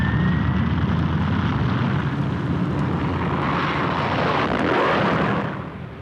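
Propeller engines of a Junkers G38, the largest land plane of its era, drone in flight as a loud, steady, unbroken roar that eases slightly at the very end.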